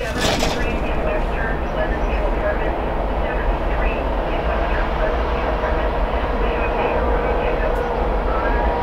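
A train passes nearby with a loud, steady rolling rumble and rattling wagons that holds throughout, with no clear speech over it.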